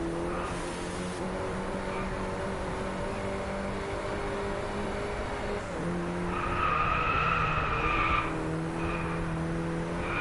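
Car tyres skid and squeal through a corner with understeer in the racing game Driveclub, a loud steady screech over the droning engine that rises sharply near the end.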